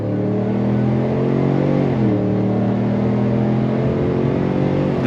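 A supercharged 2024 Chevrolet Silverado RST with a 10-speed transmission accelerates hard on throttle, its loud, close engine drone climbing steadily in pitch with a brief dip near the middle, continuous and without talk.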